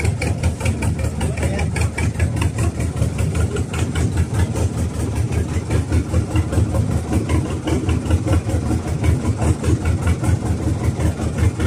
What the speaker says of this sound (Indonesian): Mesin sudah dinyalakan